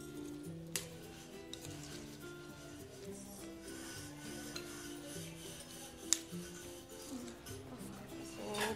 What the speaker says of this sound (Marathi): सो हे सगळं आता मिक्स करून घेऊयात आपण व्यवस्थित छान असं एकजीव करून घ्यायचं आहे